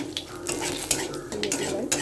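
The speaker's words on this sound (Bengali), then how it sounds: "তো তেলে দিচ্ছি কালো জিরে আর একটা তেজপাতা ফাটিয়ে নিয়ে" Black cumin seeds and a bay leaf crackle in hot oil for a Bengali vegetable tempering, with quick sharp pops and light clinks from a pan and spoon, close and fairly quiet.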